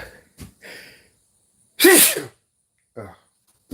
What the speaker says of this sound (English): everything in this house makes me sneeze